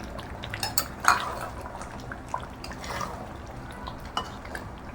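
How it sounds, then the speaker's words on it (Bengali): A spoon stirs Bengali-style chicken curry with crushed cardamom in a pot, making faint, irregular scrapes and metallic clinks against the pot with soft liquid movement between them. "দিয়ে ভালো করে নেড়ে চেড়ে নিচ্ছি।"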